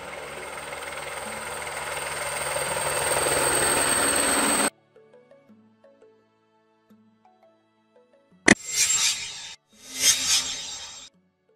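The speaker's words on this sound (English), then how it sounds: "Helicopters used in agriculture for crop dusting, pest control, and other farming operations." An agricultural helicopter used for crop dusting flies past, a loud, throbbing rotor-and-engine drone that builds over several seconds and cuts off abruptly, followed by a few short musical notes and two bursts of noise.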